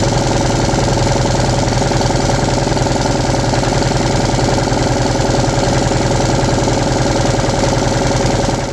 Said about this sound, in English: I'm gonna let the engine run until it destroys itself